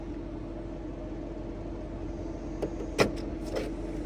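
Motor whirs from the automatic fold-down tailgate of a 2024 BMW X5 xDrive50e, with a few short clicks and clunks over a steady low background hum.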